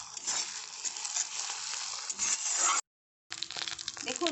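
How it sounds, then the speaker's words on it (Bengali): Ginger, garlic and onion frying in a pan make a steady, close hiss of sizzling for nearly three seconds, then a brief silence before the crackling sizzle resumes with faint clinks. "দেখুন আমার আদা রসুন পেঁয়াজ কষানো হয়ে গেছে।"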